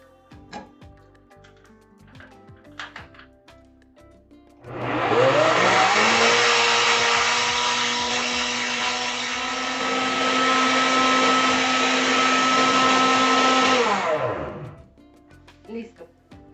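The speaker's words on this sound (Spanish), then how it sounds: "en la licuadora y licuamos hasta que quede bien finita" A blender grinds cooked beans with orange juice until smooth, a loud steady whir of about ten seconds that rises at the start and winds down at the end, with faint kitchen clatter around it.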